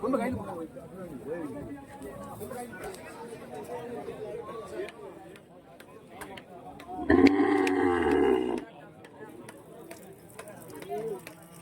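Cattle at a large livestock market selling native cows, with a loud, drawn-out bellow rising briefly from a steady crowd murmur as people talk nearby.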